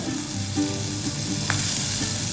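Capsicum and chopped green chilli frying in oil in a pan give a steady, close sizzle, with a few light scrapes from stirring and no talk.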